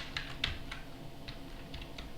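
Keystrokes on a computer keyboard as a command is typed at a Linux command line, a few soft, close clicks spaced irregularly over a quiet background.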